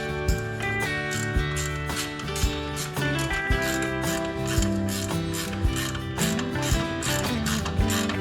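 A hand ratchet tightens engine guard bolts on a Royal Enfield Himalayan, clicking in a steady rapid rhythm of repeated strokes, close and clear, with no talking.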